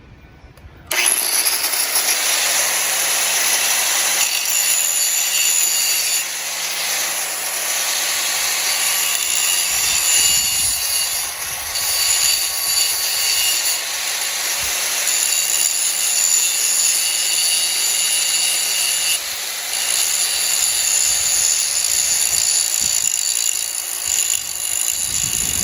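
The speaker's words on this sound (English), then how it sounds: "But I like using a hand grinder." A hand grinder sharpens the blades of an Exmark Lazer Z mower, giving a steady, loud, continuous high-pitched whine that runs alone for about 25 seconds, with small dips in pitch as the load shifts and no talk.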